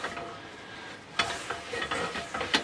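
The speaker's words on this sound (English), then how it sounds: "then I'm going to wipe it out with paper towel" A paper towel wiping out a hot, oiled pan, soft scraping swishes in short strokes over a faint sizzle, close and quiet, with no talking.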